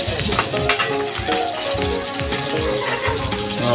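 Garlic and onion sautéing in a pan for apple-flavored adobo: a steady close sizzle with scraping stir strokes and brief clinks, continuous and loud throughout, no talk.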